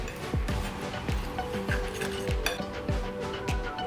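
A spoon clinks rhythmically against a bowl while Parmesan cheese and garlic are mixed into breadcrumbs, with about seven evenly spaced taps over the scraping of the mixture, close and clear.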